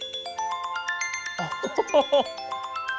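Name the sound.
iPhone ringtone called Waves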